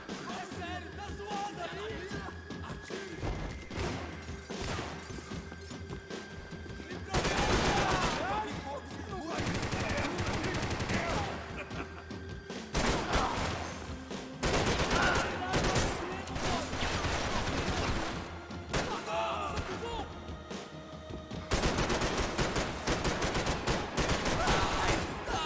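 Bursts of rapid gunfire in a video game, with dense machine-gun volleys in repeated waves of several seconds each across a continuous noisy battle soundscape.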